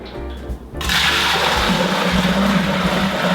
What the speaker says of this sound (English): I'm just gonna pour the hot water in.